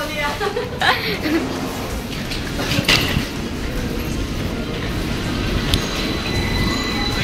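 Rumbling railway noise with rattling wheels and a brief squeal, a train moving through a busy station in Walthamstow, UK, while people talk nearby.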